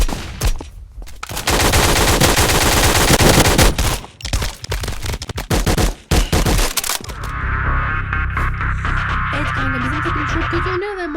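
Gun sounds from the video game Polywar: loud rapid bursts of automatic fire with sharp repeated shots, then a steadier humming mechanical layer toward the end, no talking.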